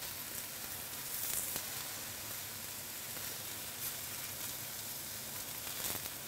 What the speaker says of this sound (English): Just grill it over so you're getting a really nice marking in that